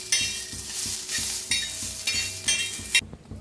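Green chillies roast in a little oil while a utensil stirs them, making a rhythmic run of scrapes and clinks over a light sizzle that stops abruptly near the end.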